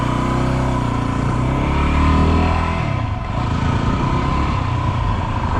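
A Yamaha WR250R motorcycle engine runs close by after a hard-shifting fix, with a loud, steady droning note that swells in a rev and then settles back to a constant throb, with no talking.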